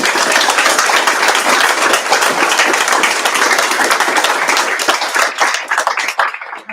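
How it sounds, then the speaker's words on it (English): An audience at a watercolour gallery opening reception applauds loudly, dense sustained clapping from many hands that fades and thins out toward the end. "really applaud loudly"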